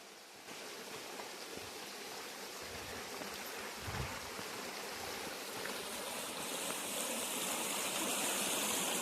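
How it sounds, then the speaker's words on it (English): A shallow forest stream on the hike to Abrams Falls rushes and babbles in a steady close wash, with a few soft footfalls or splashes near the start, and no speech. "it turns out we got our first stream to ford."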